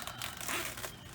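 Steaks for smoking being unwrapped from their packaging, a brief close crinkling and rustling of plastic wrap lasting about a second, fairly steady and alone.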